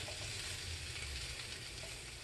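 Bacon-wrapped hot dog sizzling in a pan, a steady, faint hiss of frying fat throughout with no speech.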